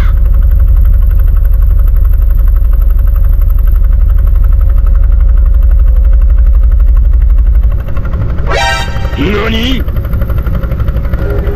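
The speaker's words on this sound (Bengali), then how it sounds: "ঝনঝনি ট্রলারের ঝনঝন শব্দটা আপনারা একটু শুনুন" The rattling diesel engine of a trawler boat in Bangladesh, loud and close, a constant heavy throbbing drone that drops off near the end as a voice rises over it.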